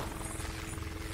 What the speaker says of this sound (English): There's a helicopter, guys.